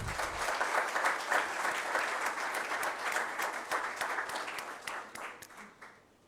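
Applause fills the hall after a signing ceremony at a Cape Verdean diaspora programme launch, a broad, sustained round of clapping that thins out and fades over the final second.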